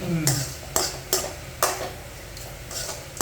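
A spatula stirs and scrapes onion and tomato with salt as they sauté in a pan for bitter gourd puli kulambu, giving several sharp metallic clinks and scrapes at an uneven pace over a low background.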